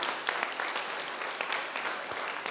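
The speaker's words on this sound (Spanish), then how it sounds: "Del aplauso al Señor." A church congregation applauding, a short burst of dense clapping from a crowd at moderate loudness, continuous throughout with a few louder individual claps.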